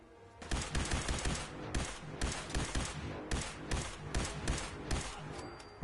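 Rapid bursts of automatic gunfire from an Institute rifle in Fallout 4, a dense run of close, loud shots stretching across the whole moment with no talking.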